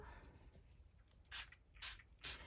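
Three short hissing bursts of a spray bottle misting water onto watercolour paper, close and fairly quiet, evenly spaced against a soft background.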